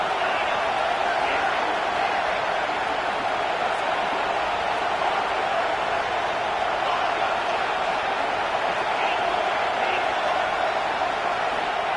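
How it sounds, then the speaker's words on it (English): Madden football video game stadium crowd, a constant, dense roar of many voices that holds at an even level without breaks. "this crowd trying to help keep them there"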